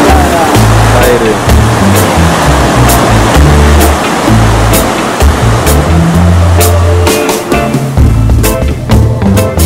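Loud, steady rush of River Lusumo's water in western Kenya as people cross it, with a continuous broadband wash and low, uneven rumbling underneath throughout.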